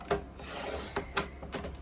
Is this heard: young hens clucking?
no